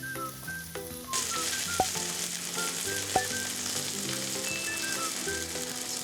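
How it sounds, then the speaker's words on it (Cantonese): Flounder pieces pan-fry in oil with ginger slices over medium-high heat, a steady close sizzle that swells into louder crackling after the first second, with faint melodic background music and no speech. "再落魚塊煎到兩面金黃色。"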